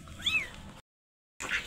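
A kitten meows in two short rising cries close by, followed by a silent gap and then another brief meow.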